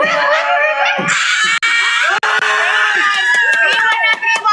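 A group of people imitate cat meows, loud, drawn-out and overlapping in quick rhythmic bursts, with clapping and crowd noise mixed in.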